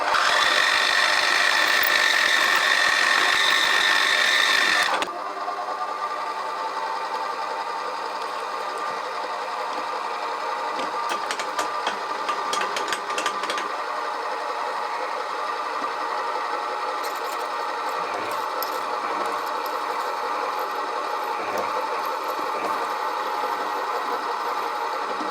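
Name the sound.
drilling and reaming a hole in a steam valve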